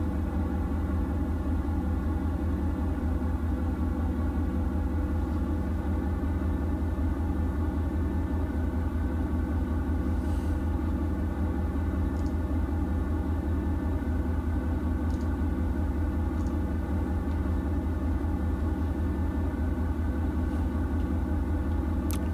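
A car engine in a driving video game hums in a constant, loud, unchanging drone with a rumbling low tone, heard alone with no voices.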